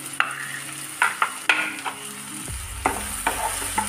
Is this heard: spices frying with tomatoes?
yes